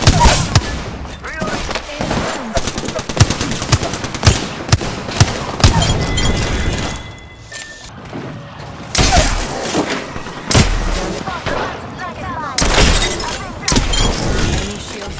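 Dense gunfire from the battle-royale shooter Apex Legends, with rapid overlapping shots and bursts, loud and close, repeating in volleys with short lulls between them across the stretch.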